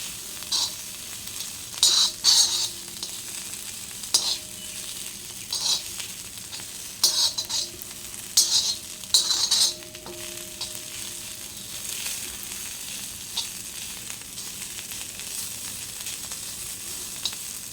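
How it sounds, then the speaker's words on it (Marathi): Cluster beans fry in a hot pan, holding a steady bright sizzle throughout while a spatula stirs them in several short bursts of scraping and clatter during the first half. "शेंगा मी टाकून घेतलेले आहेत तुम्ही बघू शकता आता याला छान फ्राय करून घेणार आहे"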